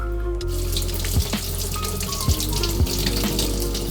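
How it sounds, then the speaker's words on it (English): Braising liquid from beer-braised lamb shanks is poured through a strainer, a steady rushing trickle of liquid with a low hum beneath and a few soft clinks and knocks of utensils, close and alone without talk. "Now strain the braising liquid to reveal a refined, beautiful sauce."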